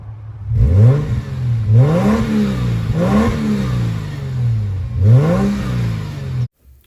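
Turbocharged car engine, a Japanese-market model offered with a 6-speed manual, revs hard in repeated rising bursts that fall back between blips, loud and close with no voices.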